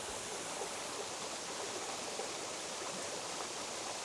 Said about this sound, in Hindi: ये उसका एक बच्चा वाटरफॉल है, बेबी वाटरफॉल.